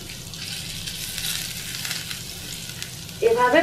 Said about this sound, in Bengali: নিচের অংশটা লাল হয়ে ভাজা ভাজা হয়ে গেছে, সেই জন্য এটাকে আমি উল্টে দেব।